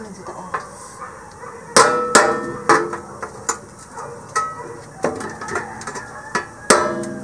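Hammer blows in a home garden setting, a series of sharp, irregular metallic knocks at close range, loud and spaced unevenly over several seconds, with some voices in the background.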